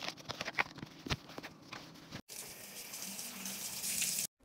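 Tap water runs to wet a cleaning cloth with plain water only. Faint splashing comes first, then a steady close hiss of running water that stops abruptly.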